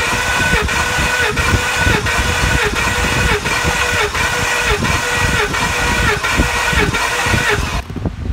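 A Ford F-250 with the 6.2 engine, suffering a misfire from a broken valve spring, cranks steadily on the starter with a loud, rhythmic chugging pulse for about eight seconds, close and continuous.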